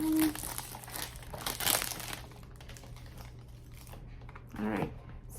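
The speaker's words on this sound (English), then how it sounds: "we're just gonna open up the cellophane here, it's making too much noise." Cellophane wrapper torn and crinkled off a perfume box, a close, bright rustling burst mid-clip with a softer crinkle near the end, and a voice speaking briefly under it.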